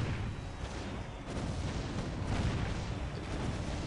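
Dense, booming blasts of cannon fire in the game Defense Grid: Containment pile up continuously at moderate distance, a rolling barrage with no clear gaps.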